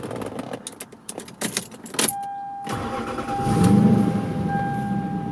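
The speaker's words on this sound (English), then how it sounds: "go ahead and fire it up to show you what it sounds like now" Lexus LS400 sedan with about 176,000 miles cranking and starting: a few keys jangle, a brief starter whir, then the engine catches and settles into a steady, fairly loud idle with a faint high whine.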